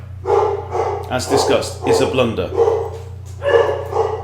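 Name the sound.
dogs barking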